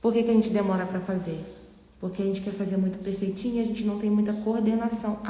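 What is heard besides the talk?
None of the usual background noises is heard.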